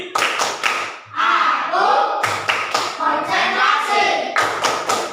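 Indonesian classroom rhythmic clapping game led by a teacher, 'tepuk semangat' and 'tepuk konsentrasi', with bursts of group hand claps and taps alternating with chanted voices, several loud claps at the start, middle and end of the exchange.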